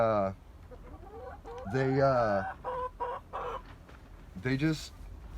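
Ameraucana chickens clucking close by, a run of drawn-out tonal clucks and short calls in an uneven rhythm, fairly clear and alone without speech.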